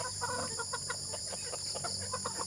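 Pet chickens cluck softly in a backyard flock in a quick run of low, faint calls over a constant electrical hum.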